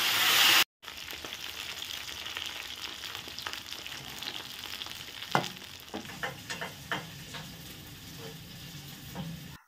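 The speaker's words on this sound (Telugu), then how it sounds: "చూడండి, వంకాయ ముక్కలు వేస్తున్నాను" Brinjal pieces fry in a pan for mango brinjal pickle, a steady close sizzle with occasional stirring clinks and scrapes after a brief cut at the start.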